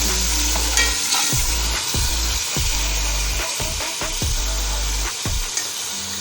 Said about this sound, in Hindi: उसको भून लेंगे।